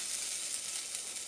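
Beef mince mixture hitting a pan of softened, translucent onions, giving a steady, close, broadband sizzle that holds evenly without pause.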